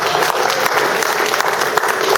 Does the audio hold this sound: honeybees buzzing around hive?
no